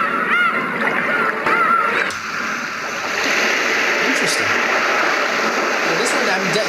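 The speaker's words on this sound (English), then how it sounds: "Seagulls. I'm guessing this is a beach." Ocean waves wash steadily onto a beach with a seagull crying once or twice, a continuous broad rushing surf played from a portable white noise sound machine, loud and even throughout.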